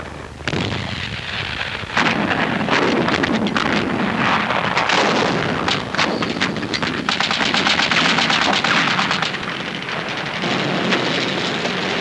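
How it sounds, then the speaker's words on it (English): Artillery, including captured enemy guns, fires in the North African desert fighting near Tobruk, a loud, dense and continuous roar of rapid gunfire and blasts sustained for several seconds with no speech. "artillery was pressed into service, including guns captured from the enemy"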